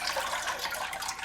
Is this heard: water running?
yes